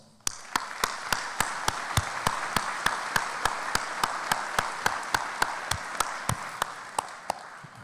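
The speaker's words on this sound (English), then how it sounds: "please join me in giving yourself a big round of applause" Graduates applaud at a college commencement ceremony, sharp evenly spaced claps from one close pair of hands standing out over a steady wash of crowd applause.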